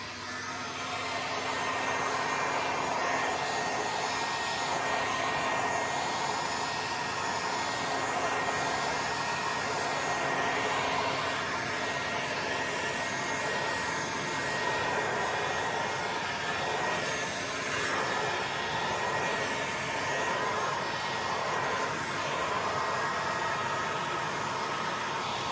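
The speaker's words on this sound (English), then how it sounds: "I'm going to get the heat gun and I'm just going to" Heat gun blowing over resin, a steady loud airy whoosh that stays constant throughout with no talking.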